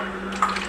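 Homemade salsa pours from a blender jar into a bowl in a kitchen, a faint, wet, splashing pour lasting under a second with a few soft glugs, close by.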